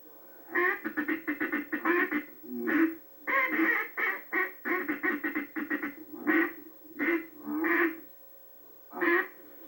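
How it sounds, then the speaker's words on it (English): Duck calls from a 1988 duck-hunting demonstration, a feed call and a quack call blown together: rapid chattering bursts broken by short pauses, loud and close, with no voices. "a lot of times Roger and I use a feed call and also a quack in combination"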